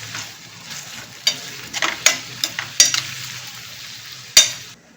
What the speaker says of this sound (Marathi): आणि आता टॅमॅटो चांगला असा मऊ पडू देत, तोपर्यंत आपण हे चांगलं परतून घ्यायचं.